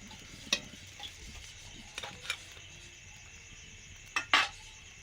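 Fish pieces for fish kabiraji fry quietly in hot oil with a soft, steady hiss, broken by a few sharp metallic clinks of a utensil against the pan.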